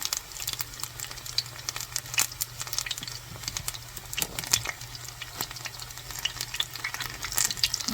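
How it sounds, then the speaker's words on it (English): Soft, steady sizzling and crackling of low-carb chicken nuggets frying in a cast iron pan, with small pops scattered throughout and a low hum underneath. "I love frying in the cast iron"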